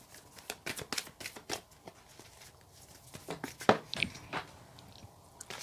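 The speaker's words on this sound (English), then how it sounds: "if I can actually shuffle." A tarot card deck is shuffled close up, with rapid papery riffles and slaps in uneven bursts against a quiet background.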